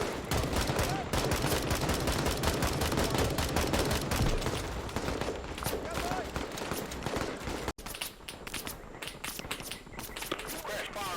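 Dense, continuous gunfire and fusillades in a Vietnam War video game battle against NVA troops, loud and close throughout, with rapid automatic bursts layered over each other and a brief dip near the end before the shooting resumes.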